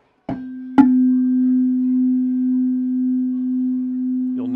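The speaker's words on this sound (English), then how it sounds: "you'll notice you're hearing the sound come in and go away. You're hearing them interfere with each other." Two tuning forks tuned slightly apart are struck in quick succession and left ringing together, their sustained pure tone gently swelling and fading in slow beats for several seconds before a faint rustle at the end.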